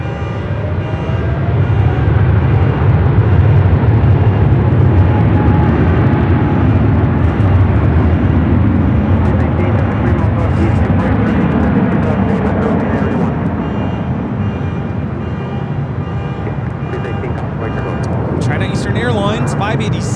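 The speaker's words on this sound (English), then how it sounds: "Airlines 586 taking off to Shanghai on the 777 300ER" A China Eastern Boeing 777-300ER takes off from runway 24 left at Los Angeles, its steady, loud jet roar filling the whole stretch at a fairly close distance, with people talking over it throughout.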